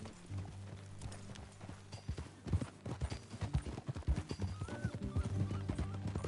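Horse hooves clip-clop in an uneven walking rhythm, fairly close, with a low steady hum underneath and no talking.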